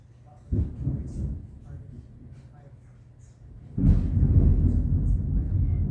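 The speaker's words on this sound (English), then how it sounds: "I'm sure you can hear that thunder." Thunder rolls during a storm, heard from indoors: a first rumble swells and fades, then a heavier, sustained roll builds and keeps grumbling loudly.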